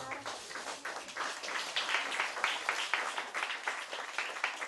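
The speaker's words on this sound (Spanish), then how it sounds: "Aplaudamos a nuestra bandera de ceremonia." An audience at a school flag ceremony applauding, dense steady clapping from many hands filling the space throughout, with no speech over it.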